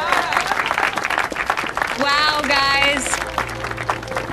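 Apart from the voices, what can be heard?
applause for fourth place newcomers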